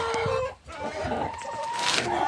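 Laying hens kept in cages cluck and squawk close by, several birds calling over one another in a busy, continuous barnyard chorus.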